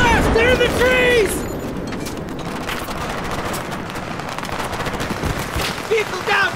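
Battlefield 3 battle with a dense roar of automatic gunfire and explosions. A clear whistling tone sounds near the start, and a voice shouts over the steady, loud barrage.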